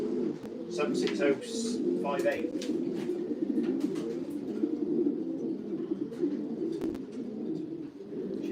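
Racing pigeons being basketed for a race to Honiton give soft, low cooing throughout, with a few sharper calls early on and someone talking over them nearby.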